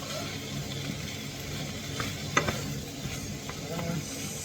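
Tomatoes sizzle and soften in a pan for chicken menudo, a steady quiet frying hiss broken by a few sharp scrapes and taps of a stirring utensil; no talk.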